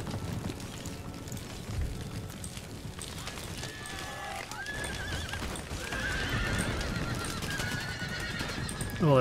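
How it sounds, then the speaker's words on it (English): Cavalry horses in the video game Empire: Total War whinny and gallop amid a busy battle din, hooves pounding steadily while neighs rise over the rumbling background. "This regiment of horse has come within range of my walls."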